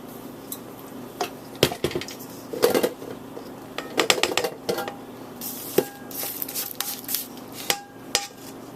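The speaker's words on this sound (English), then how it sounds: "I'm going to stop and scrape my bowl again." A spatula scrapes around a mixing bowl of gluten-free, egg-free cake batter, giving irregular clinks and knocks on the bowl with soft wet scraping between them, close and without talk.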